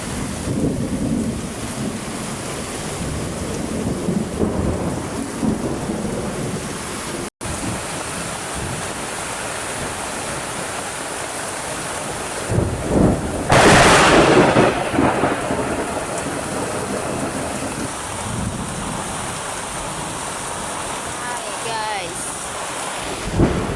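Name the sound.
heavy rain with thunder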